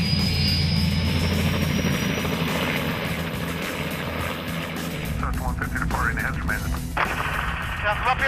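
Helicopter flying over a landslide-devastated neighbourhood, its steady rotor and engine drone loud and continuous, mixed with heavy background noise, easing in tone toward the end.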